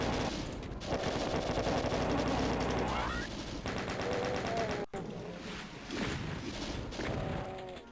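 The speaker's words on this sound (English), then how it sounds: "this is where I'm going to use the plasma rifle" Rapid weapon fire from a plasma rifle in the PC game DOOM, a dense stream of loud repeated electronic shots with game sound effects layered over it and a brief cut partway through.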